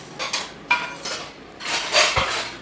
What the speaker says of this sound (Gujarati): હજી આમાં ઘણા બધા વાસણ છે ત્યાં બધું જો સાફ સફાઈનું શરૂ થઈ ગયું છે